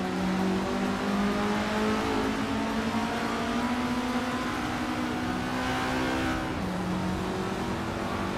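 A 1977 Melkus MT77-2 race car engine in a racing video game drones steadily and loudly throughout, its pitch climbing gradually before dropping with a gear shift near the end.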